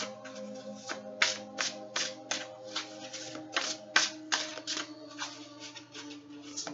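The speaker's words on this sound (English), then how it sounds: "I'm going to shuffle and I'm going to take up the top." Tarot cards being shuffled by hand during a reading: a brisk series of crisp riffling bursts and soft taps in an uneven rhythm, close up and clear with no talking.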